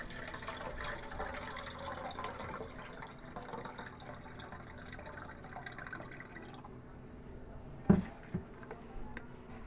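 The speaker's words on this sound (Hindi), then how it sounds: "अब हम इसमें एक बाउल रखेंगे जिसमें हम पानी डालेंगे।" Water trickles and splashes softly into a bowl while egg curry is being cooked, a faint steady pour that ends with a couple of brief clinks.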